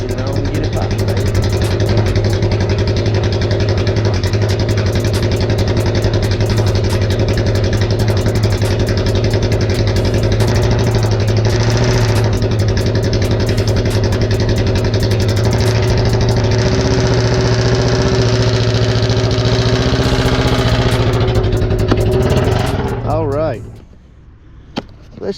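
Engine of a 2021 Polaris Ranger side-by-side idling close by, a steady loud drone with a low hum that runs unbroken for over twenty seconds before cutting off.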